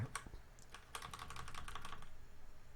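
Computer keyboard keys are pressed in a quick, steady run of light clicks, faint and close-up, starting with a few scattered taps before settling into continuous typing.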